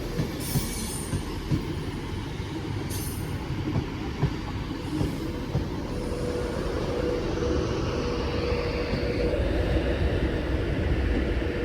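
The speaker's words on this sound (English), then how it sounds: "We'll wait for this train to depart." A train at Wigan North Western station rumbles steadily on the platform with a metallic wheel squeal, the heavy drone holding evenly throughout with no voices.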